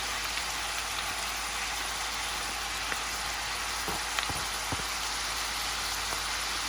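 Ground beef frying in a pan gives off a steady, loud hiss of sizzling with a few faint clicks and taps as onion is added. The hiss runs through the whole clip with no talk.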